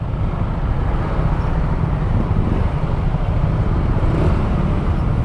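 Heavy road traffic filling a whole street, a dense, steady low rumble of engines with wind noise on the microphone, loud and continuous with no voices.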